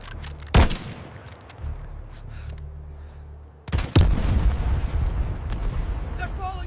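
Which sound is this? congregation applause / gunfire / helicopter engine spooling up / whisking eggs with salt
gunfire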